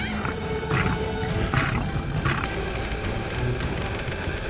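A male lion in the wild gives low rumbling growls and roar-like bursts, repeated several times over a dense noisy background.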